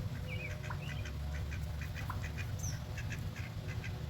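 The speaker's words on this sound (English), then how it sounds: "That's Roger, the duck." A duck quacks a few times amid turkeys and other birds at an outdoor spot where a chainsaw carving of an eagle stands, the calls fairly faint over a steady low rumble.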